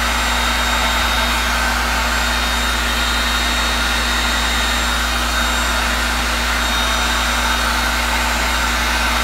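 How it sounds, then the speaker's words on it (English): A heat gun blows hot air in a loud, constant, steady whir with a fixed hum, running unbroken throughout during work on a resin table, with no speech. "It helps if your heat gun is hot."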